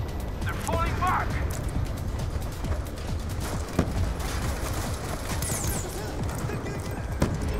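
Dense, continuous gunfire crackles through a Call of Duty Black Ops 2 campaign battle, with sharp individual shots popping above a steady roar of distant fire and mechanical clatter.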